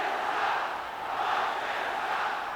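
Packed arena crowd roaring during the 1984 NBA Finals, Celtics at Lakers, a dense, steady rumble of voices that rises and falls in waves without letting up.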